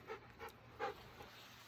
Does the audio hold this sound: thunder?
no